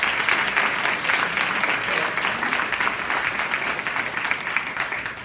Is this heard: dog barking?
no